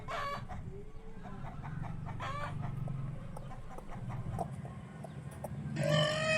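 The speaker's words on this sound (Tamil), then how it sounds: "கோழி கொக் கொக் என கொக்கரிக்கும்." Several chickens cluck in short bursts over a low farmyard hum, with a louder clucking call near the end.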